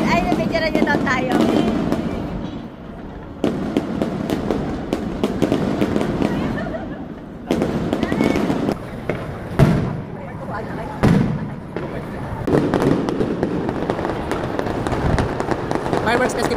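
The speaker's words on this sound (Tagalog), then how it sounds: "Fireworks Festival." Fireworks at the Sumida River Fireworks Festival in Tokyo bang and crackle repeatedly, loud sharp bursts one after another, with a crowd chattering and talking throughout.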